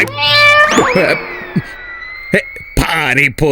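A cat meows loudly several times, long drawn-out cries with rising and falling pitch, close by, with a short pause between calls.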